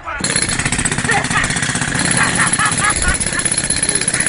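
A harsh, rapid mechanical rattling of a power drill running steadily and loud, with a pounding, jackhammer-like pulse.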